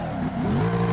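A racing car in the mobile sim racer Assoluto Racing, its engine note rising briefly and loudly in one short burst with a hint of tire noise, no voices.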